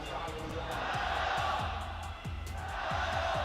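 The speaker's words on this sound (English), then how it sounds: "Chinese fans at the stadium are cheering for both teams." A stadium crowd of Chinese fans cheers at an esports grand final. Their broad roar is continuous and loud, with a rhythmic thumping pulse and chanting beneath it.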